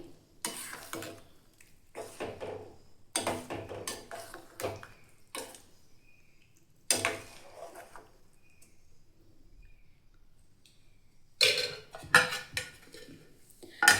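A green gram (hesaru kalu) palya mixture is stirred in a pressure cooker pot, with irregular bursts of scraping and clinking of a utensil against metal separated by quiet pauses.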